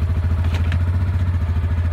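Yamaha Viking UTV fitted with a Throttle Maxx unit runs with a steady, pulsing low engine throb, close and continuous throughout, with slight rises suggesting gentle revving on a wet day in Mississippi.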